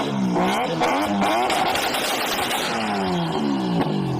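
A rotary engine revs repeatedly, its loud, buzzy note rising and falling in several climbing sweeps with a slight rattling clatter underneath, close and without any speech.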